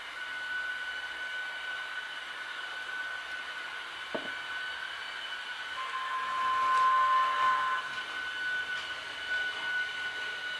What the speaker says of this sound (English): We just want to run this train.